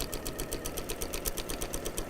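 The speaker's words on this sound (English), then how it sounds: "My sewing machine is on really slow stitching" A sewing machine runs at a slow setting, stitching binding onto a spring-inspired fabric napkin, with a steady, evenly pulsing needle rhythm that carries on continuously and close by.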